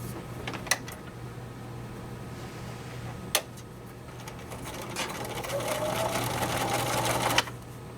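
Sewing machine stitching butterfly quilt blocks together, a steady mechanical whir with a low hum running several seconds, punctuated by a few sharp clicks and building slightly louder toward the end.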